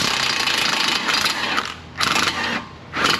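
An impact gun works on a suspension stud of a BMW 328i in loud, close, rattling hammering bursts, three to four of them separated by brief pauses.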